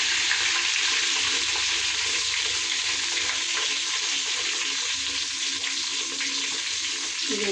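Sliced onions frying in hot oil in a pan for chicken dum biryani, a loud, continuous, close-up sizzle that stays steady from start to finish.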